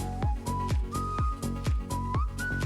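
A bright whistled melody rises and glides over a bouncy K-pop song with a plucked rhythm guitar accompaniment, the whistle holding long notes between the beats.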